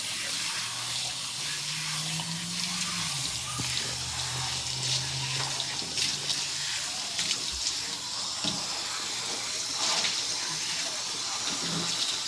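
Running water rinsing soap off a dog during a grooming bath, a steady close splashing stream from a tap or sprayer that continues throughout with small gurgles and drips.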